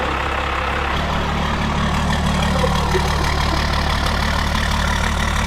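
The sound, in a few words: Cummins diesel engine running after camshaft break-in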